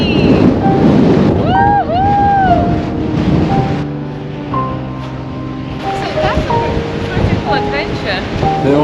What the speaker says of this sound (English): the waves absolutely battering it, crashing into it